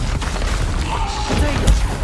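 Bombarda, Depulso and Descendo spells cast in Hogwarts Legacy on PC: a dense, continuous wash of magical combat effects with a heavy thud landing near the end.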